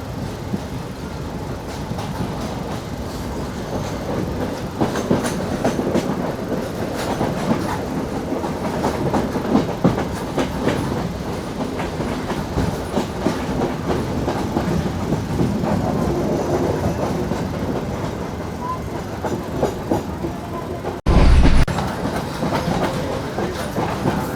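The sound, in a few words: train running, Colombo to Mirissa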